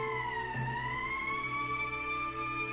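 An emergency siren from the video game Valkyria Chronicles wails steadily, a loud sustained tone with a slowly gliding pitch that holds for the whole stretch with no voices.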